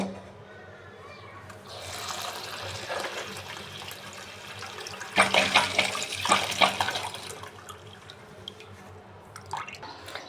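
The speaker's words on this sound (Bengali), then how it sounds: "চালটা ধুয়ে নিই।" Rice being rinsed under running tap water for khichuri, with a steady stream into a pot, then louder sloshing and splashing as the grains are swirled, close by.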